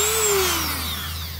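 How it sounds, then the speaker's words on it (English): A Dremel rotary tool grinding down the protruding edge of a metal washer while repairing a loose seat track on a C5 Corvette, a loud, close, high whine that slowly drops in pitch as it bears down. "I'm going to Dremel off the profile of the washer where it's sticking above over the top."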